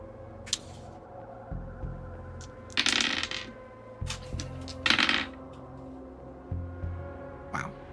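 Metal dice rolling and clattering on a table during a tabletop role-playing session, several short rattling bursts at close range over a low background hum.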